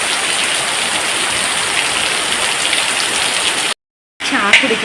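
Heavy monsoon rain pours down on a dark day, with runoff flowing across a yard: a loud, close, unbroken roar that cuts out briefly, then returns just as strongly.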